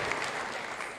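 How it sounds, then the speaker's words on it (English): A brief burst of rousing applause from an orchestra and outdoor concert audience at a music bowl, dense and sustained, heard at moderate distance. "Once again receiving a rousing round of applause from orchestra and audience"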